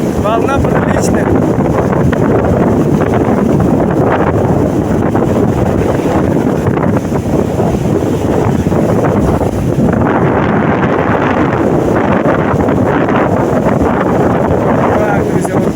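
Strong wind roars across a stormy sea with dirty, churning water and sizable waves, a loud continuous buffeting rush over the microphone that swells and eases throughout, with surf washing underneath.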